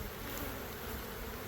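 Honey bees buzz in a steady, close drone as they are shaken off a hive frame into a nuc box, with a small knock at the very end.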